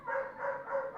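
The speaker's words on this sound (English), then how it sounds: "I do apologize for the barking." A dog barks three times in a steady rhythm, fairly close and moderately loud, with faint background sound behind it.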